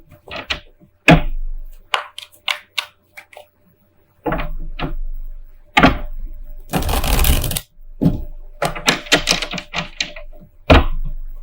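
Tarot cards being shuffled and handled, a series of sharp riffles, flicks and taps in irregular bursts, including a longer dense riffle, loud and close with no speech.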